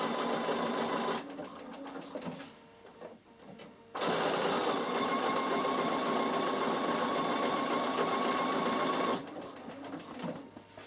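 A Bernina sewing machine stitches slowly around a curve with soft thread, its steady motor whir running in bursts with short pauses between, close and alone.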